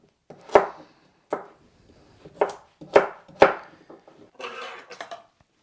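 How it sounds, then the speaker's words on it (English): A knife chops peeled, seeded pumpkin into rough chunks for soup on a cutting board: five or six distinct, close thuds at an uneven pace, then a softer scraping shuffle at the end, with no talk. "I'll just cut these into rough chunks"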